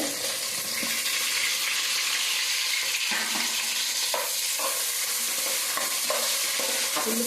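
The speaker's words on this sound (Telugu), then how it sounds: "ఆయిల్ అయితే కాగిందండి ఉల్లిపాయలు అయితే వేస్తున్నాను" Onions frying in hot oil for beef biryani, a loud continuous sizzle with intermittent scrapes and knocks of a spoon stirring the pan, no voices.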